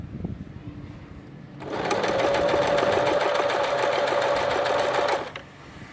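An Elna 2006 sewing machine runs steadily for about three and a half seconds, a loud, even mechanical whir with a fast stitching rhythm that starts and stops abruptly.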